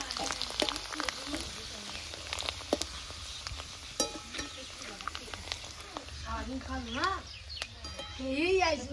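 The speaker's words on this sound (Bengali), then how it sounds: "তেলটা আমার গরম হয়ে গেছে, এর পাঁপড়গুলো একটা একটা করে ভেজে নেব।" Rice papads fry one at a time in hot oil in a wok, giving a steady crackling sizzle close by, with scraping stirs and bubbling bursts that swell toward the end while a voice talks over it.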